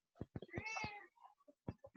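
A cat gives a clear, drawn-out meow close by, preceded and followed by short chirpy vocal sounds in a quiet room.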